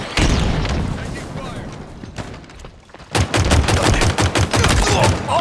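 Gunfire in Halo Infinite: a dense burst of rapid automatic shots opens, fades into scattered impacts, then a second sustained volley of evenly spaced, loud shots rings out with game voice callouts mixed in.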